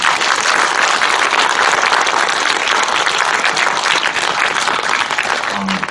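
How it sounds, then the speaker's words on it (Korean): An audience at a Korean film screening and guest talk claps for the actors and director standing at the front, producing dense, loud, sustained applause from a large crowd that continues without a break throughout. "앞에 나와 계신 배우분들, 감독님께 박수 한 번만 쳐주세요."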